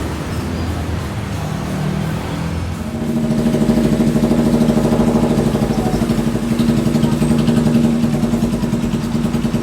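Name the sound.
motorcycle engine running after ignition rework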